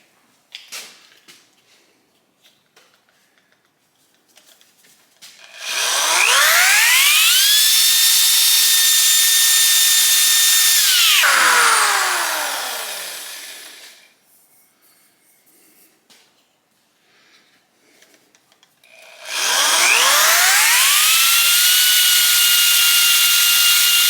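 Power sanding of 1978 Kawasaki KZ1000 Z1R motorcycle parts with 60 grit abrasive: two loud, close bursts of a high whirring, rasping grind, each spinning up, holding steady, then winding down, separated by near silence.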